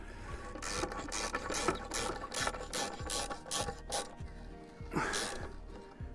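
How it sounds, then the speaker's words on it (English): A hand ratchet drives screws into fence timber, giving repeated clicking, rasping strokes in an uneven rhythm, close and fairly loud, with no talk. "We're just in the process of screwing them in now with a ratchet."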